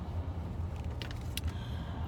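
A car drives along with a steady low engine and road rumble inside the cabin, a few faint clicks and rattles on top.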